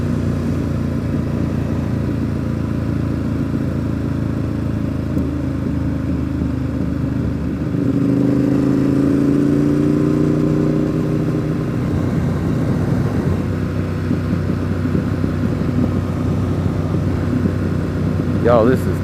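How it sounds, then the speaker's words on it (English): Motorcycles ride past on a rural road, a steady engine drone that swells and rises in pitch midway, then fades, heard from inside a passing vehicle with road rumble underneath. "Wow, motorcycles."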